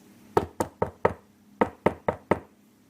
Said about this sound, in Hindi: कमला सुबह 4 बजे ही अपनी बहू का दरवाजा खटखटाती है।